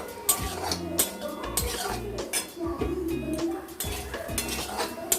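Fried potatoes and pointed gourd are stir-fried in a pan, with a utensil scraping and clinking against the metal in a steady, regular rhythm, close and clear.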